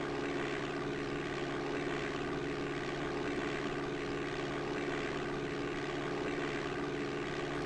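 A light propeller plane in DOS Flight Simulator 5.1 rolls along a grass runway for takeoff, its engine a steady, even drone that holds the same pitch and loudness throughout, with no voices.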